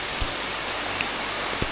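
Rain falls steadily on a trail in the ghats, a dense close hiss with a few soft drop taps and no voices.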